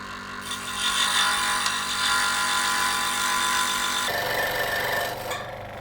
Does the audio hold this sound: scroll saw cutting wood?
yes